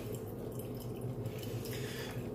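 An Imusa espresso machine on its first use runs water through, giving a steady, dense hiss and trickle with a low pump hum underneath, continuous and fairly loud throughout.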